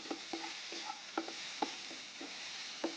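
A soya mixture being sautéed and stirred in a pan, with soft irregular scraping clicks from the spoon over a quiet, steady sizzle.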